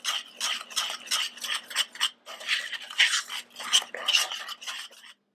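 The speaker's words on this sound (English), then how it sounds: "I'm going to stir that in" A spoon stirs ingredients into espresso chocolate chip cookie batter in a bowl, giving close, rhythmic scraping strokes, about a dozen in quick succession, with no talking.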